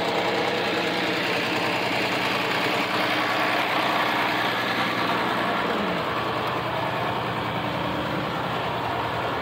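A tractor engine drones steadily while plowing a dry, hard field, a loud and constant low rumble with a slight knocking texture that holds without a break and has no talk over it.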